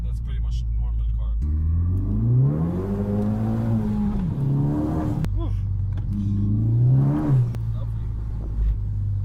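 A Ford Focus ST fitted with a Pedal Commander throttle controller revs and accelerates in two strong pulls with a deep engine rumble and rising pitch, heard close from inside the car, with people talking over it.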